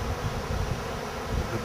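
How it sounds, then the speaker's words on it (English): Large swarm of bees at a hunting camp, a dense continuous buzzing drone heard close and steady throughout. "that is a lot of bees."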